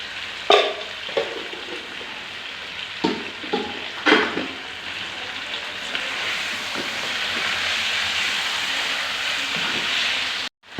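Chicken and potatoes fry in a pan with garam masala, a loud continuous sizzle broken early by several sharp scraping stirs of the spoon, then a steady hiss to the end.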